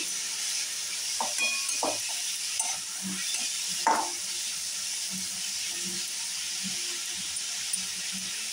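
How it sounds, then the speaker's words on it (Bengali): Grated carrot fries in a pan for semolina pulao, giving a steady broad sizzle with occasional stirring clinks and scrapes, close and moderately loud, with no talking. "আর গাজরটা কুড়ে নিয়েছি, তাড়াতাড়ি ভাজা হয়ে যাবে।"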